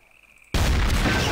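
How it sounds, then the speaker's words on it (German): A sudden loud blast in the shooter game Trouble in Terrorist Town cuts through a quiet moment and leaves a broad, sustained roar of debris and rumble. "Da ging was hoch."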